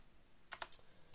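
A few quick keystrokes on a computer keyboard while typing a line of script code in Roblox Studio, short faint clicks clustered together then one more tap after a pause.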